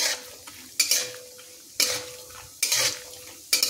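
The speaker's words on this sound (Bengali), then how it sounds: "কাজু দিয়ে এটাকে সুন্দর করে কাজুগুলোকে ভেজে নেব" Cashews fry in a pan at home, a soft sizzle under four or five sharp scraping stirs with a metal spoon, each a brief bright rasp followed by quieter crackling, close and clear with no talking.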